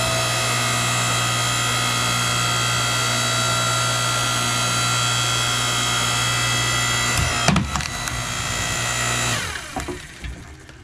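A 6-ton electric log splitter takes 20.5-inch wood. Its motor hums steadily for about seven seconds, then the log cracks and splinters loudly, and the motor winds down.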